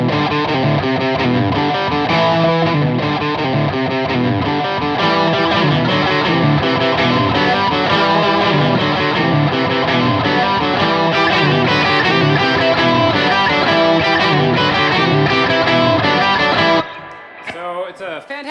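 Heavily distorted electric guitar plays a continuous, driving loop of galloping riffs, loud and dense throughout before cutting off abruptly near the end.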